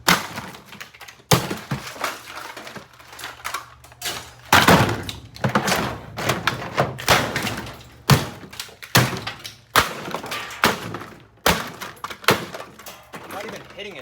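A cheap Hamilton Beach coffee maker takes a series of irregular, heavy thunks and cracking blows as it is smashed apart, the impacts loud and close with short pauses between strikes.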